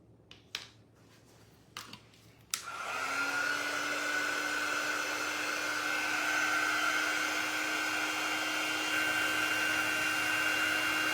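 A hair dryer drying a coat of paint on a pumpkin craft switches on after a few small handling clicks, then blows a loud, steady whooshing roar with a constant motor whine close by, with no talking.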